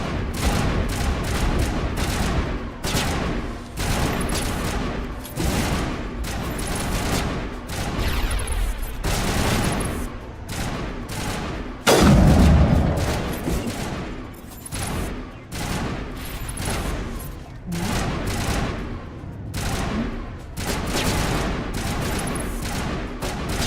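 Rapid bursts of gunfire and explosions from Mass Effect Legendary Edition combat crackle almost continuously, with one heavier boom near the middle, loud and close throughout with no voices.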